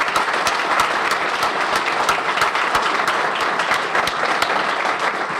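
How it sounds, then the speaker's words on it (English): An audience gives steady, dense applause for the finalists at a small business of the year awards event. The clapping stays loud and unbroken throughout, with no talk over it. "let's give them all a round of applause again"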